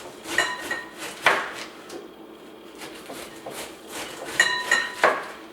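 Knife sliding back and forth through cabbage on a wooden board for sauerkraut, giving a few sharp close cuts and soft scraping strokes with gaps of quieter rustling between them.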